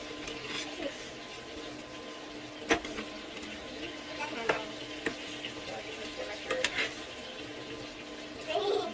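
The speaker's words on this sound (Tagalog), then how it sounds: "We just fry the mushroom in, then we'll set it aside" Mushrooms frying in a pan give a soft continuous sizzle with scattered clicks and scrapes of stirring, moderately close, with no voices.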